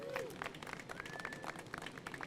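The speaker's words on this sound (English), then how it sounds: "Give Curtis a warm round of applause." Faint applause for a mural artist at an outdoor street art unveiling, a scattered patter of clapping from a modest crowd, distant and soft with a whistle-like tone gliding through.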